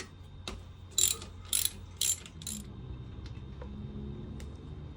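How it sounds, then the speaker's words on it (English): Ratchet on a 17 mm socket loosening the drain plug of a 1986 Honda CT110 motorcycle: four quick, loud bursts of ratcheting clicks close up, followed by quieter scattered ticks and handling noise, no speech. "This is a 17 millimeter socket to remove the drain plug."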